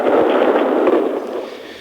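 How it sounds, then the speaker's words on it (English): Anti-aircraft fire over Baghdad in 1991 comes through as a dense, continuous crackle of distant bursts and pops over a radio link, with no voices. "Some more anti-aircraft fire."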